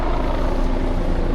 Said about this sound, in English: Sorry for the helicopter noise swirling right over top of me